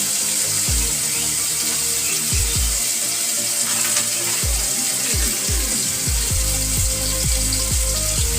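Water is poured into a hot pan of frying chicken masala made with Kashmiri chilli and desi onions, producing a loud hiss and sputtering sizzle that crackles steadily without talk.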